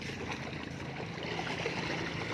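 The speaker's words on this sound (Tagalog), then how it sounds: "Tingnan mo ang maririnig mo sa umaga. Hagupit ng maliliit na palo ng dagat." Small sea waves lapping on the shore at Masinloc, Zambales in the morning, a soft continuous wash and gurgle heard faintly without speech.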